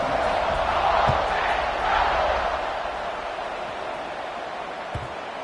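Football stadium crowd at an NCAA college game roars steadily at kickoff, a broad loud wash of cheering that swells near the start and slowly eases, with a couple of faint thumps.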